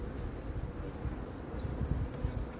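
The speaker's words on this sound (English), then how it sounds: "See some bees landing on the side of this box." Honeybees from a swarm buzz around a swarm trap box, a soft, dense outdoor hum with faint individual passes, fairly quiet and continuous without talk.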